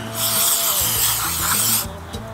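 Aerosol throttle body and air intake cleaner sprays in a loud, steady hiss on a car's throttle body, lasting nearly two seconds before cutting off abruptly, with a low engine hum underneath.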